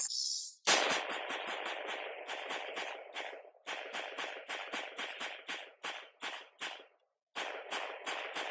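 AR-15 carbine with a hybrid direct impingement system firing rapid strings of shots outdoors, sharp loud cracks in quick succession with short gaps between bursts and one longer pause near the end.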